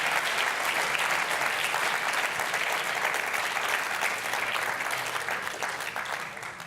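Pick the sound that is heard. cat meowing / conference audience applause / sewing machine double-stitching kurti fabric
conference audience applause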